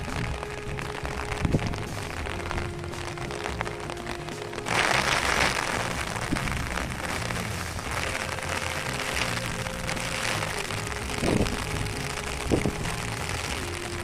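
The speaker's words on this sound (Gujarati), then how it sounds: "વરસાદ મિત્રો ફૂલ ચાલુ થઈ ગયો છે" Steady rain hisses down beside a swollen creek, growing heavier partway through, with a few louder drips and knocks on a surface nearby.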